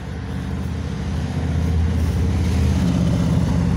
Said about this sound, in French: Ah, c'est des motos.